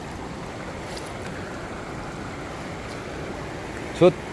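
Steady broadband rush of a rock-strewn river after heavy rain, water pouring between stones, continuous and fairly close, with a brief higher tonal blip near the end.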